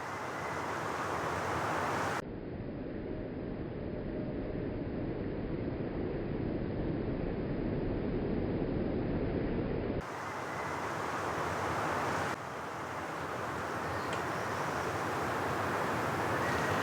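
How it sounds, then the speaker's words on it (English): Wind blowing outdoors in a quiet wooded spot, a steady loud broadband rush across the whole stretch with buffeting against the microphone and no voices. "I think it's just the wind blowing."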